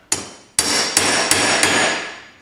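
A hammer strikes a steel knife blade five times to straighten it, each sharp metallic blow ringing out and decaying before the next, close and loud with no talking.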